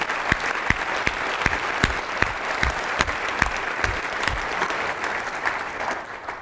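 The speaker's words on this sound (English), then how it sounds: "round of applause for that." Steady applause from a group, with individual sharp claps standing out, fading slightly at the end.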